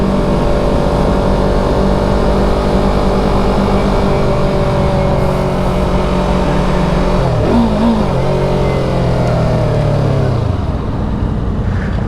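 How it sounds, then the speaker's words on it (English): A car engine revs loudly and steadily, its harmonic drone rising and falling with a brief throttle blip before easing off near the end, heard on a coastal country drive. "Thought I'd give those kids a little rev."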